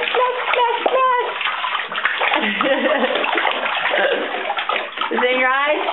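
Water splashes in a home bathtub during a child's bath, steady sloshing and splatter running throughout, close and fairly loud, with a voice and an adult talking over it.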